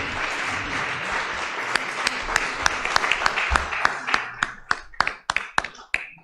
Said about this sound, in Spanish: Por favor, un gran aplauso.